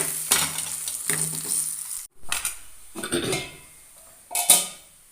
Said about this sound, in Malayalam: ഇനി ഇത് നമുക്ക് കറിയിലേക്ക് ഒഴിച്ചു കൊടുക്കാം